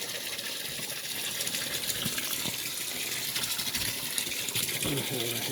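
Water gushes steadily from a hose into a garden watering pool or tank that holds 4.5 cubic metres, a continuous loud rushing and splashing with no break across the whole stretch.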